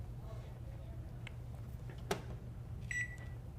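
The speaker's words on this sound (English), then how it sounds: "Is that the microwave?" A microwave oven sounds a short faint beep near the end over a steady low electrical hum in a quiet room, with a brief click partway through.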